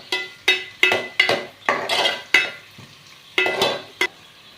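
Paneer and softened onions stirred in a frying pan, a spoon scraping in a series of sharp, close strokes over a soft sizzle, with brief pauses between the strokes.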